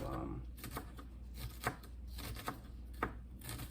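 A knife chopping onion finely on a board, quick repeated dull taps in an uneven rhythm, close and fairly quiet, with a person talking over it.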